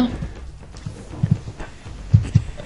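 Hooves of a Minecraft horse clop in soft paired steps, a few thuds spread over a quiet background with no talk.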